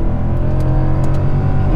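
A Mercedes W204 C63 AMG at full throttle in manual mode, its engine a loud, dense, continuous roar held close throughout the short burst, with no talking.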